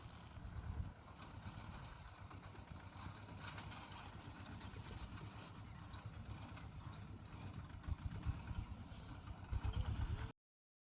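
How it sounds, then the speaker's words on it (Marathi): Low, steady rumble of a tractor engine running at a distance in a field during sowing, with faint clatter, heard outdoors and continuing without a break. "तो ट्रॅक्टर चाललेला आहे आता पेरायला"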